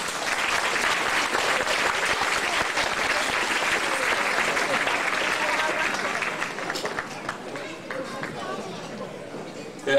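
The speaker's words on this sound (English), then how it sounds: "Would you guys please stand up so we can clap for them?" An audience applauds loudly and densely for several seconds as people stand up at a Chinese New Year event, with chatter mixed in. The clapping thins and fades toward the end.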